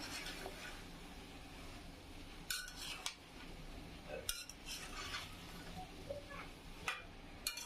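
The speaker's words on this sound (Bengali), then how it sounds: "সবজিগুলো ভালোভাবে মিক্স করে নিব।" Mixed vegetables are stirred in a pan, with repeated scraping and clinking of a metal utensil against the cookware over a faint sizzle, coming in irregular bursts.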